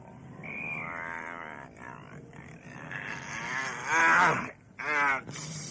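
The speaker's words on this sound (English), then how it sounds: "Oscar, You have to let my cow run all over my house." A cow moos several times, long drawn-out lowing calls rising and falling, with a couple of louder bellows near the end.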